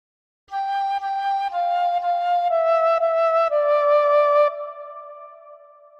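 A fife plays the opening phrase of Twinkle Twinkle Little Star, giving clear, bright single notes stepping down in pitch, with the last note fading out alone.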